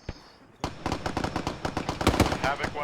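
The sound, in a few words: gunfire in ArmA 3 video game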